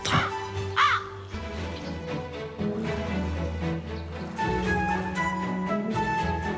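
A crow caws in an animated series, with harsh calls set against a bed of background music and no speech.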